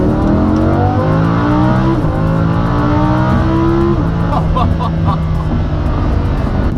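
A Lamborghini Huracan V10 engine screams steadily at high revs, climbing in pitch through gear shifts at about two and four seconds, loud and close with no voices.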